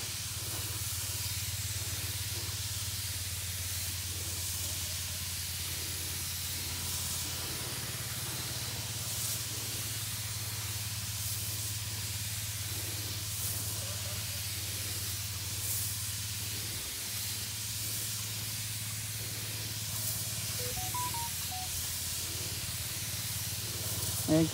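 Insecticide being sprayed onto bean plants in an outdoor garden after heavy rain, a steady continuous hiss of mist from the sprayer running nearly unbroken throughout, close and fairly loud over a low constant hum.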